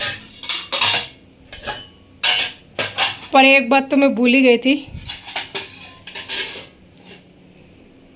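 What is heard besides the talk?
washing dishes, pots and utensils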